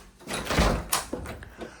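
House door swung during a property tour, a soft creaking sweep followed by a sharper knock and a few small rattles, close and fairly quiet.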